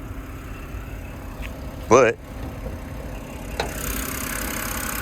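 A BMW project car's engine idles steadily in the background while someone talks over it, with a brief louder clunk partway through.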